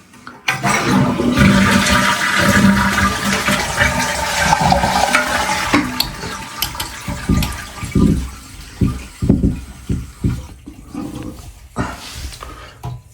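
A household toilet that fills slowly flushes nearby with a loud rushing surge that gradually settles into gurgling and uneven refill splashes.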